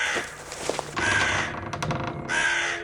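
A crow caws in a few harsh bursts outdoors, fairly close and loud, with ambient noise between calls.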